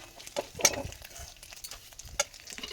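Dry red chili and cumin are tempered in very hot oil in a kadai, giving a brief crackling sizzle with a few stirring scrapes, close and fairly quiet.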